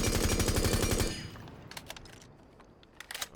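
Rapid automatic gunfire from a weapon fitted with a flash hider in Rainbow Six Siege, a loud, evenly spaced burst lasting about a second, then scattered clinks and faint game sounds.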